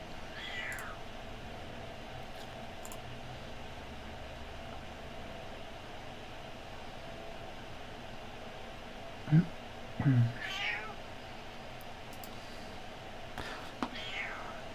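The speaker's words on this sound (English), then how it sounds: "my cat is noisy today" A house cat meows a few times during an indoor painting session, short faint cries over a quiet hiss of room noise, with soft talking in the background.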